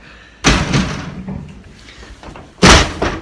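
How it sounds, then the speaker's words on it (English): A sticky door in a home is yanked open and pushed shut, giving two loud, close thuds and slams with scraping and rattling between them and no voices. "that's called the sticky door"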